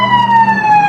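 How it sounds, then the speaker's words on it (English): An ambulance siren wails loud and close, a steady tonal blare with a slightly wavering pitch across the short moment. "Ahí la ambulancia por mí."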